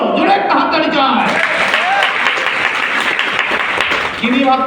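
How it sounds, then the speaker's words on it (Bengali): Audience applause at a stem-cell nutrition therapy seminar in a party centre hall: dense, steady clapping for several seconds, with a voice speaking over it. "জোরে একটা হাততালি চাই।"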